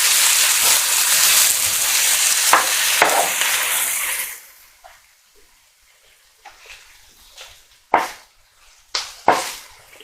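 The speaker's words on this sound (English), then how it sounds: "Let's give that a stir." Chopped chunks of corned beef being stirred in a pan for corned beef hash, a loud sizzling wash for the first four seconds, then quieter with several sharp scraping knocks of a spoon against the pan.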